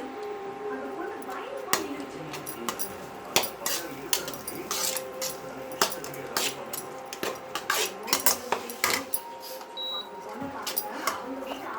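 Food is stirred in a pan with a metal utensil while cooking with eggs, making repeated clinks and scrapes in an uneven rhythm, with someone talking throughout.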